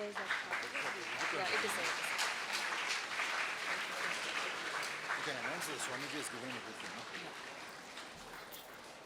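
Faint audience applause at a lecture session fills the room as a soft, even wash of clapping beneath a person speaking, gradually tapering toward the end.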